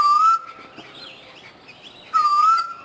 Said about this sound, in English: this is a storm bird, or the Koel cuckoo, and it's called a duwang because of the sound the bird makes around stormy weather